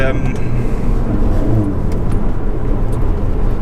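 A remapped Mercedes A45 pulls hard, a loud low engine roar and road noise heard from inside the cabin, steady and continuous for a few seconds.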